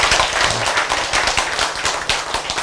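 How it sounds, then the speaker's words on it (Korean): Audience at a church sermon clapping together in a dense, steady burst of applause that fills the short stretch, loud and close with a few voices mixed in. "박수!"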